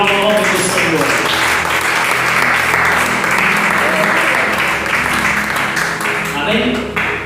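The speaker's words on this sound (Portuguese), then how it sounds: "Pode bater palmas e glorificar o nome do Senhor." Congregation clapping in praise at a Portuguese-language Bible study, a loud, continuous round of applause with voices calling out and talking underneath.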